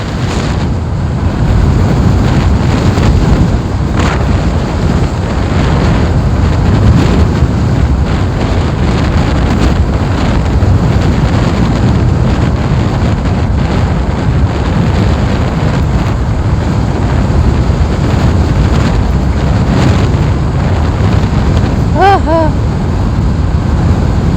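Strong gusting wind buffets the microphone outdoors in Barangay San Pedro, Cataingan, Masbate, a loud continuous rumbling roar that persists for the whole stretch with little letup, and a voice is heard faintly under it.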